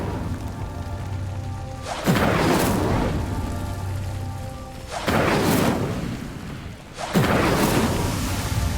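Incendio fire spell cast in the Hogwarts Legacy video game on PS5: three loud, roaring whooshes of flame burst out one after another, each swelling then fading, over a low, steady musical drone.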